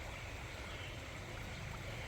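A small woodland stream where pickerel, green frogs and small fish live, heard as a steady close wash of flowing water running without a break and without any voices.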